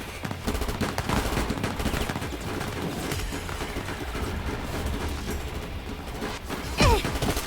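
Bursts of gunfire in the video game AI: The Somnium Files, with rapid repeated shots rattling continuously at a moderate level and a brief whooshing sweep near the end.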